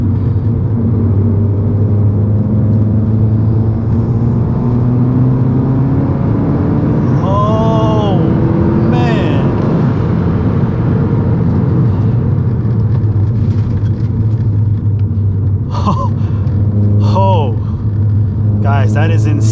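An upgraded-turbo VW GTI with about 400 horsepower pulls hard on a canyon road, its engine drone rising through the gears with quick shift breaks, loud and constant inside the cabin.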